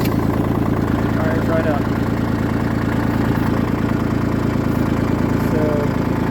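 Kubota L2501 compact tractor diesel engine idling steadily with a constant low rumble after starting in cool weather, close by, with a person talking briefly over it.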